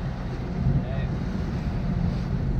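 Steady low wind rumble buffeting the microphone outdoors on the Sardinian coast, continuous and fairly loud, with faint water wash underneath.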